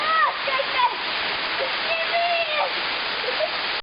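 A steady, loud roar of water from the Mar'yanchyni waterfalls pours and splashes into a pool, a continuous rushing wash close by.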